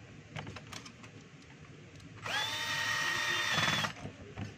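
A power driver whirs steadily for under two seconds, driving a screw into a DeWalt DW810 angle grinder being reassembled, with light tool handling clicks before and after.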